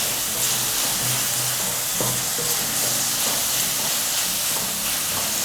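Steady sizzling and hissing of tomatoes frying in a pan for masala rice, with faint clinks and stirring sounds, close by and continuous with no talking.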